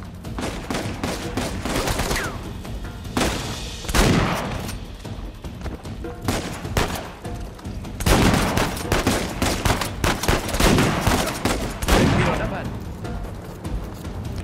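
Heavy gunfire in Uncharted Legacy of Thieves, loud repeated bursts and volleys of shots crackling in clusters, with sharper peaks around several moments and dense rattling between them, close and intense throughout.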